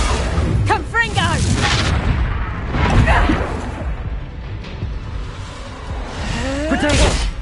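In the Hogwarts Legacy video game, Confringo fire-blast spells go off as booming bursts and whooshes in a busy combat mix. Shouted voices break in near the start and near the end.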